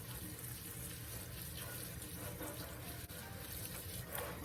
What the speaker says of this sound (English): My husband put a new water faucet in here.